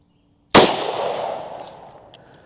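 A single loud, sharp gunshot from a Glock 35 firing 124 gr .357 Sig Underwood rounds into ballistic gel, close by, bursting out of silence and then ringing down in a long, reverberant decay.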